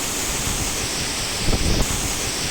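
Steady broadband roar of a waterfall's rushing water with wind buffeting the microphone, a couple of louder gusts midway, at Maral Waterfall in Şavşat, Artvin.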